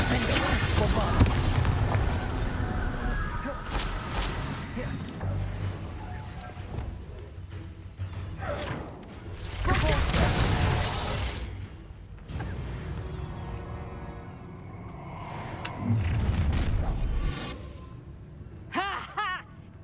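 Hogwarts Legacy spell blasts in combat, a few booming, crashing bursts mixed with game music and talking, the loudest impacts arriving around the middle and near the end.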